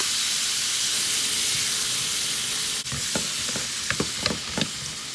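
Onions and garlic sautéing in butter in a pan: a steady loud hissing sizzle that briefly drops, then returns with several quick spatula scrapes and knocks, and no talking.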